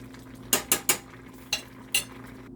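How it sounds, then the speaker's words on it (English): Palmini noodles being mixed through a bubbling cheese sauce in a pan, with five sharp utensil scrapes and clinks over a soft simmering sizzle and no voices. "just keep adding those in and mixing them around while you're continuing to allow some of the excess liquid to boil out"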